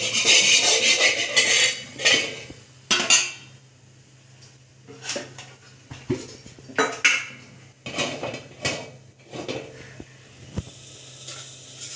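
A cooking pot for egg masala curry is set down and handled, giving a series of loud metallic clanks and scrapes of cookware and utensils at irregular intervals, close by, with no voices.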